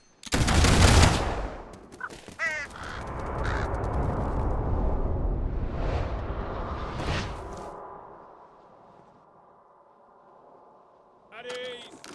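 Volley of soldiers' rifles in the video game Fable III, one loud sharp burst of shots followed by crackling echoes and a long fading tail, with crows cawing afterward and a voice calling out.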